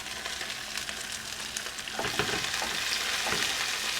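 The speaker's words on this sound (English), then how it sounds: "And give that a good stir for about another 20-25 seconds." Ginger, chilies and garlic fry in a pan for a lamb Madras curry, a soft steady sizzle that grows livelier halfway as stirring scrapes and clicks join in, close and with no voices.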